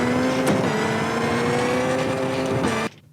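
A rally car engine in Richard Burns Rally revs hard and steadily at high pitch as it powers out of a corner, loud and close, then cuts off abruptly.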